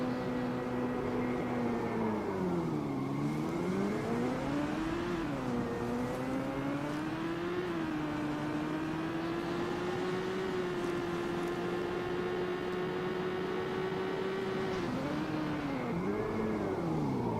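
Car engine in a storm-chasing video game revving up and down, its pitch sweeping low then climbing and holding before dipping again, loud and continuous with no talk.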